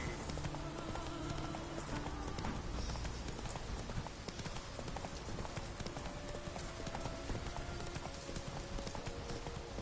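A horse galloping in The Witcher 3, rapid hoofbeats drumming steadily under a dense wash of game ambience, fairly faint and continuous for the whole stretch.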